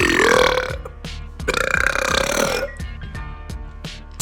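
A loud, drawn-out burp swells and gurgles for about two seconds before a second long, rumbling burp follows, both close and alone with no talking.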